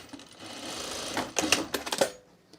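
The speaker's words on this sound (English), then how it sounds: "Let's sew across this right here" A sewing machine runs across a scrap-fabric mulch mat in a steady whir, ending in a few quick uneven bursts and clicks before stopping.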